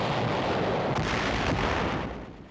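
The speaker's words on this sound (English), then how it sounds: "Tanks blast Jap positions in the hills outside the city." Tank gunfire blasting enemy positions in the hills outside Okinawa city in 1945, a loud, sustained roar of blasts and rumbling, with a couple of sharper hits before it fades.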